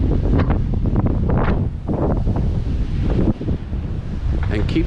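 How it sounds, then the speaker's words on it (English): Strong wind buffets a microphone outdoors on a walk toward the Raiders stadium in Las Vegas, a loud continuous low rumble that rises and dips, with faint voices underneath. "Sorry about the wind, it's quite windy."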